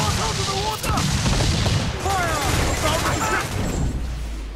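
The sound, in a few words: ship cannons firing in Assassin's Creed IV Black Flag, video game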